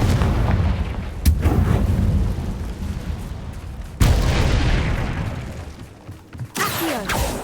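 Confringo blast spells in the Hogwarts Legacy video game erupt in loud, sudden booms with rumbling, crackling tails, three heavy blasts layered over continuous roaring game noise.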